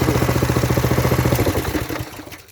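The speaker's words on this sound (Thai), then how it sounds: "แต่ไม่เร่งแรงนะผม เปลืองน้ ำอ่ะเดี๋ยวผมดับเครื่องก่อน" A 5.5 hp gasoline water pump engine chugs at a fast, even idle rhythm close by, then slows and sputters out as it is shut down.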